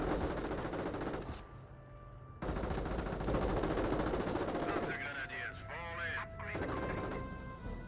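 STG assault rifle fire in the World War II strategy game Company of Heroes comes as rapid crackling bursts amid battlefield noise, with a brief gap in the middle and a short voiced call near the end.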